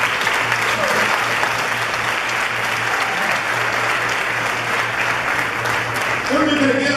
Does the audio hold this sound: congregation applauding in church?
yes